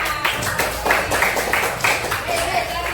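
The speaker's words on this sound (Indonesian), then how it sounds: "Terima kasih tepuk tangan" A group of people clapping together during a peer-coaching session in a classroom, a steady dense patter of hands lasting the whole stretch at moderate loudness, with some voices mixed in.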